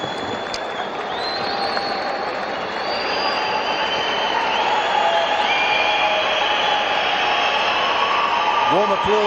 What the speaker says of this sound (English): Warm applause for the flags of the 2 participating nations